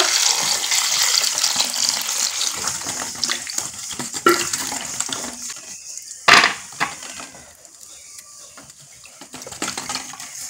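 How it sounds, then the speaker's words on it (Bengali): Fresh tomatoes washed under a running tap, a continuous close splash of water with occasional clunks and knocks of fruit and hands in the sink, no talking. "টমেটোগুলো খুব ভালো করে ধুয়ে নেব।"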